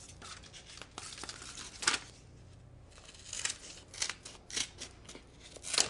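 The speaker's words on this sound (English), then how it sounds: "I'm just going to go ahead and cut the rest of my paper off too" Scissors cut through a sheet of paper near at hand, a series of crisp snipping and slicing strokes in irregular bursts, quiet between cuts and with no voices.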